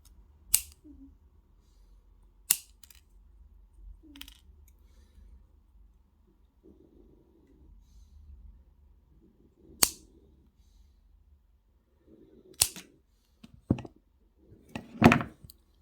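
Small wire cutters snip jewellery wire while it is curled around a square stone pendant, giving several sharp, close clicks spaced seconds apart with faint fiddling and handling sounds between them.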